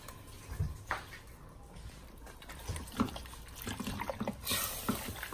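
Spiced goat meat for asun simmers and sizzles in a pot, with soft, uneven bubbling and liquid trickles close by at low volume.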